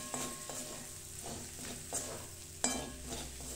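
Mutton pieces frying with ground pepper and fennel powder over a low gas flame give a steady soft sizzle, with a few sharper stirring scrapes and clinks rising above it.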